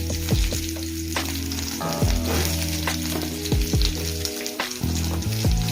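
Onions sizzling in hot oil for South Indian sambar made with masoor dal, with a steady crackle and hiss close up, joined by occasional stirring clinks and a low hum underneath.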